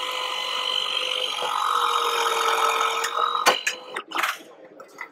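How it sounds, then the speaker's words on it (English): A Milwaukee M18 cordless strut shear cuts through metal strut channel, a steady whining motor hum that builds and holds for a few seconds, then ends in a cluster of sharp clicks and clunks as the cut finishes, close up. "It just shears it super clean."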